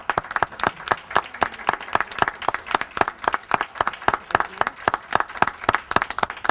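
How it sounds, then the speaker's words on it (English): An audience at a press conference for the Carmans River study group applauds the group's members with dense, lively clapping that stays loud and continuous throughout. "Let's give the members of the study group a round of applause."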